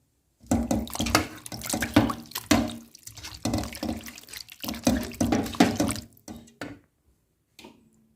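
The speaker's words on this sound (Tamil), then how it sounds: "கறியை வந்து நல்லா மூணு நாலு தடவை நல்லா வாஷ் பண்ணி எடுத்துக்கலாம்" Mutton pieces washed by hand under running water in a kitchen sink, with close splashing and sloshing in irregular bursts that keeps going for several seconds and then stops.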